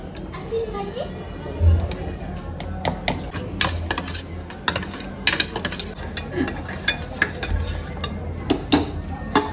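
A spoon stirs ground masala gravy into a pot of country chicken curry, giving scattered scrapes and clinks against the pan under a low, steady background hum, with faint voices in the room.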